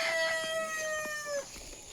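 A rooster on a farm crows once, a clear drawn-out call sounding close and alone against quiet outdoor background.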